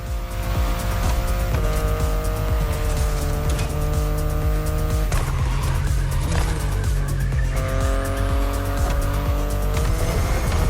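BMW i8 in The Crew Motorfest racing game, engine droning steadily with rising and falling tones and tire squeal throughout, loud and continuous with gear shifts audible.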